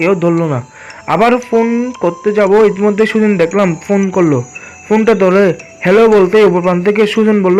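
Night crickets give a thin, steady chirring behind a horror-story narration. The insect sound stays faint and continuous while a voice dominates the foreground.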